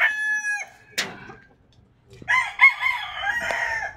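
Chickens cluck and squawk nearby, with a rooster's crow ringing out loud and clear among the busy, overlapping calls.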